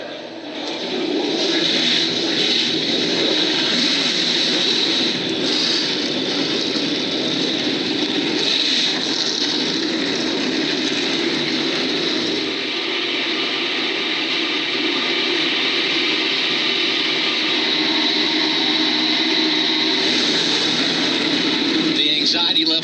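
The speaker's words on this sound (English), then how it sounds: "The engines are fired, and that means in just a couple of more minutes we'll be green here at Daytona." Several race car engines idle and rumble together on the starting grid at Daytona International Speedway before the Lucas Oil 200, a steady, loud, continuous roar with a high whine on top and no break throughout.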